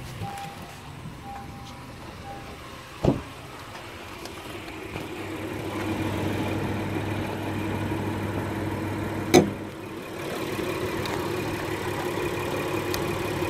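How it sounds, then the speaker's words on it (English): A 2017 Honda Ridgeline AWD with its 3.5-liter V6 idles steadily after start-up, a low, even engine hum that builds after about five seconds, with a couple of brief sharp clicks along the way. "I'm gonna crank it back up for a minute so we can see how it looks running."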